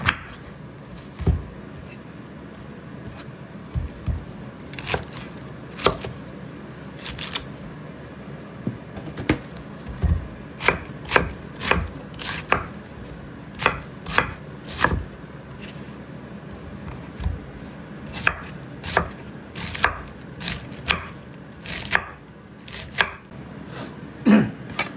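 A knife chops cabbage for pork ribs soup on a cutting board. The cuts come as sharp, close knocks in irregular bursts, with short clusters of quick strokes between pauses.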